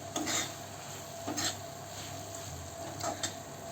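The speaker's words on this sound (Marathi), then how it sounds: "राहिलेली कोथिंबीर वरून टाकूया आणि मिक्स करू" Cooked cauliflower bhaji with coriander being stirred in a pan, a few soft scraping strokes of a spoon against the metal at an irregular pace over a faint sizzle.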